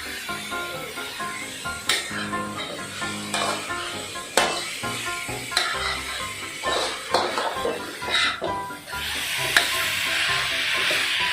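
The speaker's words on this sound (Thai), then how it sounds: "ผัดหมูให้สุกนะคะ" Minced pork and chili stir-fried in a pan, with a continuous close sizzle and repeated sharp scrapes and taps of a spatula against the pan in an irregular rhythm.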